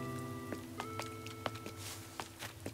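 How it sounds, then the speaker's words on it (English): Rain falling in the video game Animal Crossing: New Horizons, soft pattering drops and taps over a quiet sustained musical tone, faint and steady with scattered louder drips. "I love the rain in Animal Crossing"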